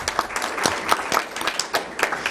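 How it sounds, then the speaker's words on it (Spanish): An audience applauds to welcome a speaker at a morning conference session. The clapping is steady and moderately loud, with individual claps standing out for a couple of seconds. "Por favor, démosle un fuerte aplauso a Marcela para darle la bienvenida."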